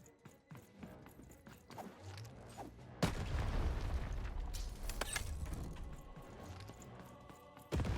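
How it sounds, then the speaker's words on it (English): A heavy boom from a cannon in Lost in Random lands amid busy game sounds, followed by continued rumbling action and scattered impacts. "Fire the cannon."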